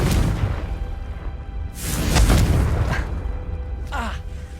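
A fiery Confringo spell blast in Hogwarts Legacy, a loud booming whoosh that swells and rumbles for about a second, followed by a shorter fizzing burst, over continuous game background noise.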